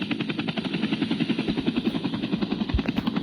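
Airplane in a police video game, a close, steady droning engine with a rapid pulsing throb that stays even throughout.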